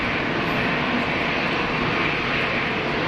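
Steady, loud broadband roar of an EasyJet airliner landing at Geneva Airport, constant throughout with no breaks, heard close with no voices.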